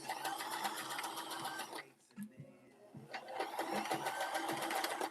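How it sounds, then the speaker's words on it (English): A sewing machine runs a zigzag stitch in two fast, rattling bursts of needle strokes, stopping briefly in the middle before starting again, with a voice talking nearby. "yeah, this is zigzagging, but it's a little bigger than what I would."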